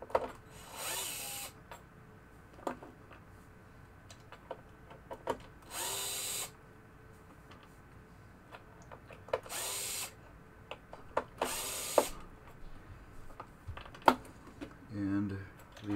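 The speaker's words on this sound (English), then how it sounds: "I'll take the screws out." A power drill backing screws out of a 1973 Williams pinball machine during a rebuild, several short whirring bursts spaced a few seconds apart, close and fairly quiet, with soft handling clatter in between.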